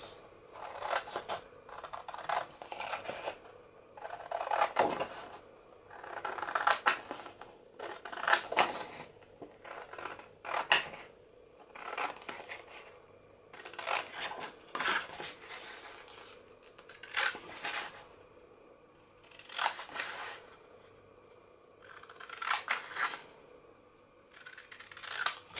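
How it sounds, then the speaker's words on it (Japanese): Scissors snip out paper craft parts for a jumping-chicken model, with repeated bursts of short crisp cuts and quiet gaps between them over about half a minute, up close and with no talk. "ハサミで切り取っていきます。"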